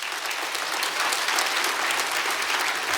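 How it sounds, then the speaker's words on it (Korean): A church congregation applauds in a big, dense round of clapping that fills the room and stays steady and loud throughout. "우리 큰 박수로 맞이하시겠습니다"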